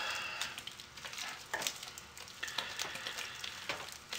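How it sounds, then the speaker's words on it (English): Hot process soap being stirred by hand as fragrance is worked in gradually, giving a soft, continuous wet squishing and bubbling texture with small irregular surges, close up and unaccompanied by talk. "I like to stir my fragrance in gradually"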